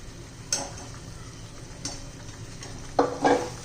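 Fried vegetables are stirred and mixed into a sizzling masala for a Maharashtrian bhogi mixed vegetable dish, with a few spaced, close scrapes and clicks of a spoon against the pan over a low, steady sizzle.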